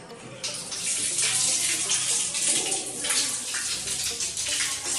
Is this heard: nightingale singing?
no